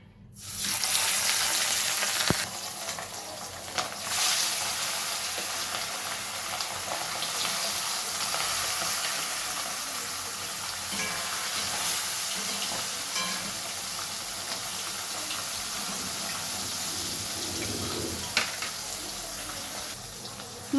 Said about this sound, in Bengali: এখন আমি মাছগুলো গরম তেলে ছেড়ে দেব।